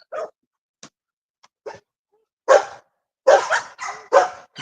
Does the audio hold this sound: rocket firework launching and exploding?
no